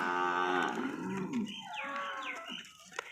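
A cow moos loudly and close, a long low bellow that trails off, followed by softer bovine sounds and faint rustling.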